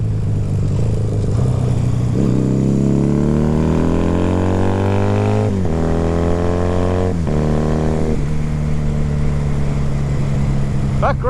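Motorcycle engine revving and pulling through the gears while riding on back roads, loud and close with rising pitch sweeps and gear-change dips, steady wind-rushed drone throughout.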